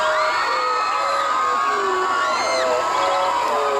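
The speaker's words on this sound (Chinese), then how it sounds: "掌声欢迎" An audience at a live singing event cheers and whoops as a performer is welcomed, a dense crowd roar with bright shouts rising over it, loud and continuous throughout.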